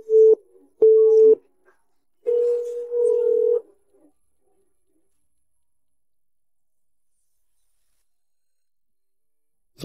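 Telephone call tone sounding for a call that goes unanswered: a few short buzzing tone bursts in the first few seconds, followed by silence.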